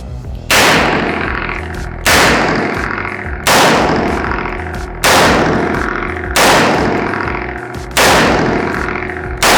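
A revolver fires six loud, close, sharp shots at a shooting range, spaced roughly one and a half seconds apart, each with a ringing decay before the next.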